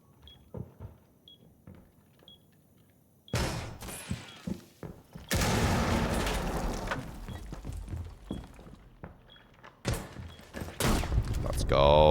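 Shotgun fire in a video game, with sharp blasts and bursts of loud crackling gunfire and shattering in a few dense stretches, mixed with game effects and a voice talking throughout.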